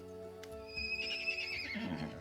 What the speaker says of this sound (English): A pair of scared ponies stands before you. They don't run away, but they snort loudly and neigh as you approach.